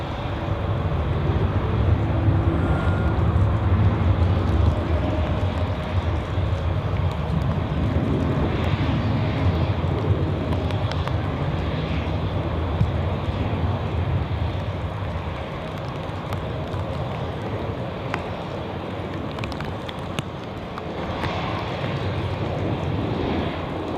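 A passenger airliner bound for Barcelona takes off from Zurich Airport, its jet engines a loud, continuous low roar that fades gradually as the aircraft climbs away, with no talking.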